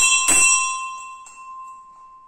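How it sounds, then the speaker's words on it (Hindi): A single bright strike of a small brass temple bell hung for Hanuman at a mandir in Madhya Pradesh, with a sharp onset and a clear ringing tone that decays slowly over two seconds, heard alone. "ये चेक करो हनुमान दादाजी के लिए घंटी"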